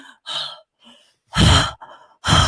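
A voice imitates heavy breathing with a few loud, breathy exhales and sighs separated by short pauses, close up.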